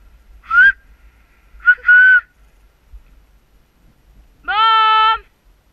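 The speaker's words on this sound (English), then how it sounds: "Do you mind if I whistle or will it upset Finn?" A person whistles two short, sharp attention-getting bursts, then gives a longer, louder vocal call after a pause, in an otherwise quiet room.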